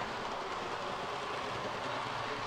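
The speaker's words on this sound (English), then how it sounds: "this is my first time being able to see trains come by from this perspective" HO scale model train rolling past on a home layout, a steady continuous rumble and rail noise with no breaks, moderately faint and heard alone.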